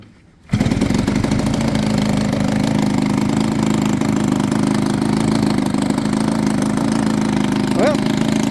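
A model airplane engine, a previously unflown unit with ignition fitted, starts and runs for the first time, a loud steady buzzing drone that kicks in abruptly after a brief quiet moment and holds continuously close by.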